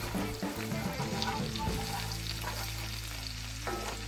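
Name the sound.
garlic and scotch bonnet pepper being stirred in sizzling butter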